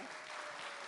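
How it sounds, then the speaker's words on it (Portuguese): Dense, steady applause from a crowd, loud and continuous throughout with no pauses. "Uma salva de palmas para os nossos astros."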